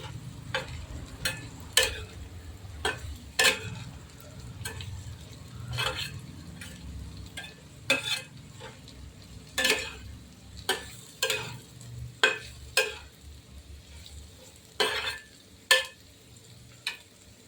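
Bombil fish and tomato stirred in a frying pan, a soft sizzle under repeated sharp clicks and scrapes of a spoon against the pan, with no talk.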